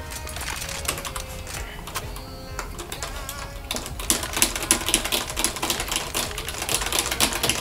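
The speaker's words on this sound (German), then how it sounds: "Seine Tastatur ist verdammt laut, weißt du das?" Loud computer keyboard typing during a Counter-Strike game session: rapid, close clattering key clicks that grow denser and harder in the second half, with no talk.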